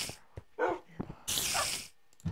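Minecraft dogs bark in short, sharp yaps, several separate barks and a longer bright burst close by, spread unevenly across a couple of seconds with no voices.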